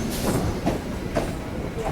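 Local train pulling into Sealdah station, a continuous rolling rumble of carriages on rails, close and fairly loud.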